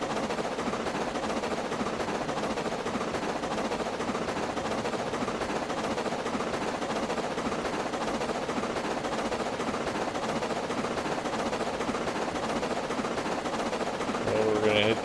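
A loaded train in the RailRoads Online game pushes uphill, a dense, steady rapid rumbling clatter at moderate level that carries on without break for the whole stretch.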